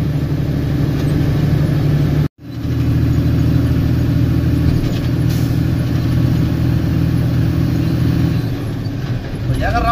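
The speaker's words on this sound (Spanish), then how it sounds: "este express, esta autopista llena de carros" Traffic on a busy Chicago expressway rumbles from inside a moving vehicle, a steady low engine and road drone that holds throughout, broken by one brief dropout early on.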